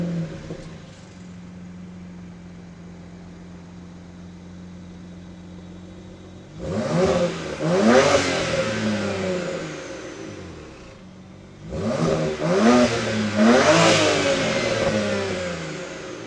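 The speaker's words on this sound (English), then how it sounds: "So real quick, this is what it sounds like." BMW 335i E90 with an N54 engine and aftermarket downpipes, idling steadily and then revved hard twice, each rev a loud rising roar that settles back to idle.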